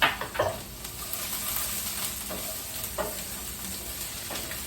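Garlic, ginger and a red jalapeno sizzle in a hot pan with a steady hiss, a few sharp pops and scraping stirs near the start, then a quieter constant crackle.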